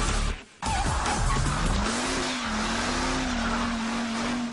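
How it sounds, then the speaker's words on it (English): A four-door car at about 167 mph roars with a loud, steady engine drone and rushing road noise, dipping briefly near the start and then holding a sustained high-speed whine. "167 miles an hour in a 4-door"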